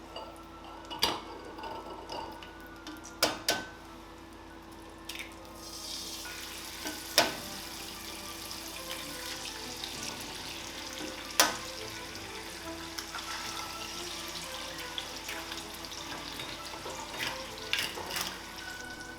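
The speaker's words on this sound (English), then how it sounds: "And now we're going to fry our eggs in that fat." Eggs frying in a pan of meat fat over low heat, a steady soft sizzle and crackle throughout, punctuated by occasional sharp pops and spits, close and continuous with no talking.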